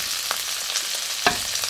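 Garlic, onion and celery frying in a pan, a steady bright sizzle with a few sharper crackles and pops of stirring, no voices.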